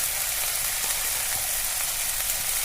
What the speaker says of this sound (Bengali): মশলাটার থেকে তেল না ছাড়া অবধি ভালোভাবে কষিয়ে নিব।